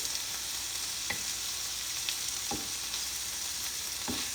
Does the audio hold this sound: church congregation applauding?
no